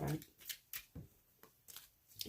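Several quick bursts of tarot card shuffling, riffles and taps spaced out over a couple of seconds, close and fairly quiet, with no talking.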